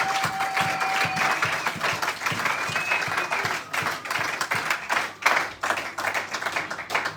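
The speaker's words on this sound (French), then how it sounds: "Est-ce qu'on peut applaudir fortement pour la gloire?" A congregation at a Sunday church service claps loudly and continuously, with a dense wash of applause and some music faintly underneath.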